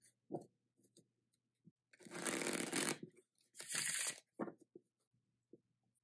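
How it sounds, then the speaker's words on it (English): A deck of cards is riffled twice in quick, fluttering bursts, close and fairly soft, with light handling taps before and after. "I have a regular deck of cards, and I'll even shuffle it for you guys."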